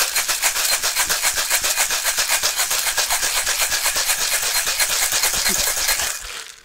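Ice rattles hard inside a cocktail shaker as a Following Capricorn tiki drink is shaken, a loud, rapid rhythmic churning that runs steadily for about six seconds before stopping abruptly.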